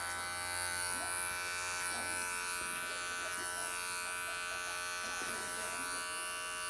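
An electric hair clipper blade detailing the edge of a home lockdown haircut buzzes steadily and close for the whole stretch, a constant motor whine with slight shifts as it moves along the hairline.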